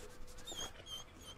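A dog whimpers in Fable 2, a few faint, high, thin cries with short pauses over a low background in a cold, snowy setting.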